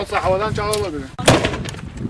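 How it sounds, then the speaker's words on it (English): Heavy gunfire booms out loudly in a sharp burst in a conflict zone, with someone talking just before and shouting over the blasts as fire is returned. "We're returning fire."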